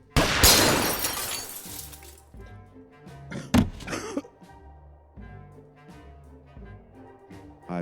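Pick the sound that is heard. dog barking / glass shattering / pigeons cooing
glass shattering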